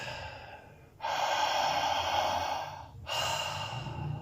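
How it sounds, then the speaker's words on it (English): Slow, relaxed breathing during a breath work session: a long, close, airy breath lasting about two seconds, a brief pause, then the next breath starting, all clear and unaccompanied. "Focusing on the breath."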